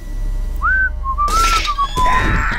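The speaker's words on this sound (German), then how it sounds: "Wenn man sich anschleicht an Leute, immer schön die Tetris-Melodie pfeifen." A person whistles a short, clear melodic phrase of sliding notes, loud and close, over a low steady hum with brief bursts of background noise.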